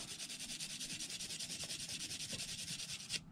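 A small iron wire brush scrubs battery cable lugs in a boat's lithium LiFePO4 battery bank, giving a fast, rhythmic scratching of regular back-and-forth strokes, close and fairly quiet, ending with a light knock.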